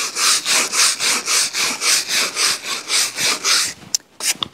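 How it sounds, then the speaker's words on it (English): Fresh-cut timber log being scrubbed clean with rapid rhythmic strokes, about a dozen even rasping swipes close by, followed by a few scattered knocks and scrapes; no talking. "Give it a good scrubbing."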